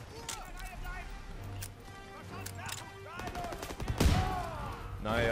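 Drilling shotgun fire in the video game Call of Duty: WWII, with sharp gunshot blasts and a loud boom near the end, heard amid game sounds while someone talks over it.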